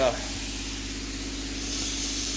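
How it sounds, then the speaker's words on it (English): Water spray hosing down an Audiopipe Blazer speaker, a steady close hiss running without pause from start to finish. "I got it just sprayed off right now, half of it."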